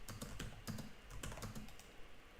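Rapid typing on a computer keyboard, a quick run of close, crisp key clicks in uneven bursts with no voices.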